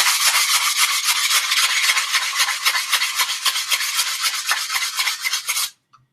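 A blank is sanded by hand with sandpaper in rapid, rhythmic back-and-forth strokes, a loud, close, gritty rasp that runs continuously for several seconds before stopping abruptly.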